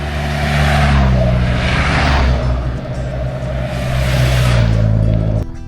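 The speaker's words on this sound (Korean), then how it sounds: "아 오토바이" A motorcycle passes close by on a gentle uphill road along the Camino de Santiago in Spain. Its loud engine roar swells, holds and fades over several seconds.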